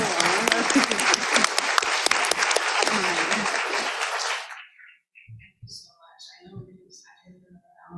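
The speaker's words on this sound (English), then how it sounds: "Can I just get a round of applause?" A conference audience applauds a panel of women for about four seconds, with full, lively clapping that stops abruptly. Quiet follows, broken by faint scattered voices.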